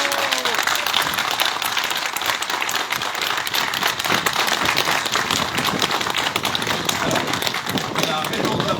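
Crowd applause at a hospital rally celebrating a reopened pediatric emergency department, steady broadband clapping throughout with voices mixed in underneath.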